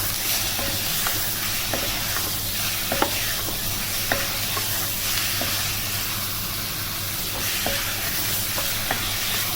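Chicken pieces fry with ginger garlic paste in a karahi for a green chilli namkeen karahi, a loud, even sizzle with occasional sharp ladle knocks and scrapes as it is stirred, up close with no talking.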